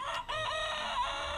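A single drawn-out chicken call rings out close and clear, sustained for about a second with no other sounds around it.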